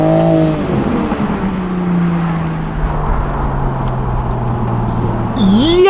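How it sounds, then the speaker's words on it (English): A car in sport mode accelerating hard from inside the cabin, a loud engine note rising and shifting through gears over several seconds, with a higher rev surge at the end. "Let's go ahead and put it in sport mode."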